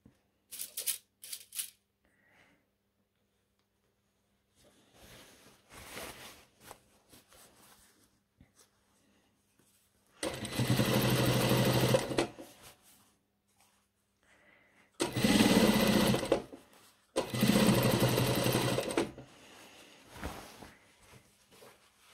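A sewing machine stitches the side seam of a pair of trousers in three loud sustained bursts separated by quiet pauses, with faint handling sounds in between.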